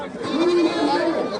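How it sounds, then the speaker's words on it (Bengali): A goat bleats once in a drawn-out wavering call at a busy livestock market, close and clear over murmuring voices and crowd noise. "এখানে কিন্তু প্রচুর ছাগল দেখতে পাচ্ছেন"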